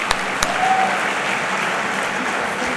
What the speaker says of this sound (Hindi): जोरदार ताली एक बार बजा दो